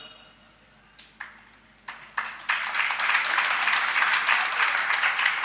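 A crowd at a religious discourse in Chitri, Rajasthan breaks into applause, starting with a few isolated claps that quickly swell into steady, dense clapping from a large audience.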